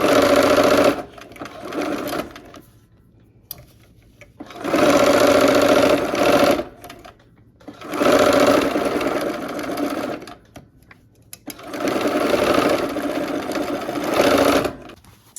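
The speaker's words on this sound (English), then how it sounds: "let's go ahead and sew that with our 1/4 inch seam" A sewing machine runs a quarter-inch seam on a pinwheel quilt block in four loud, close bursts of rapid, steady stitching. Short quiet pauses separate the bursts, and nobody speaks.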